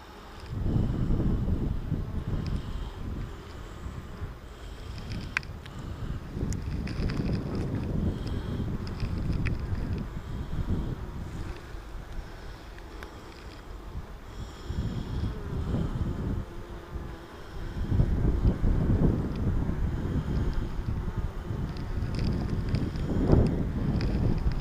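Gusty wind buffets the microphone outdoors during an inspection of a beehive nuc, a steady low rumble that swells louder toward the end, with no talk.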